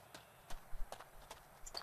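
Horse hooves clip-clop in the fantasy video game Two Worlds, a handful of quiet irregular strikes spaced across a short walking stretch.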